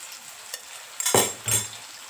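Biryani masala being stirred and fried after two spoonfuls of yogurt go in, cooked in a clay pot over a wood-fired stove: a quiet sizzle, then a spoon scraping and clinking against the pot in two short strokes.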